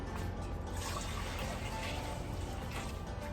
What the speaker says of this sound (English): we're gonna put some water in this pot so we can get ready to boil our noodles